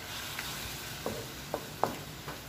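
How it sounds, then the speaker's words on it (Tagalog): Pork belly browning in a little oil for adobo, giving a quiet steady sizzle with a few soft pops and stirring knocks spaced through it. "Medyo i-light brown natin itong ating pork belly."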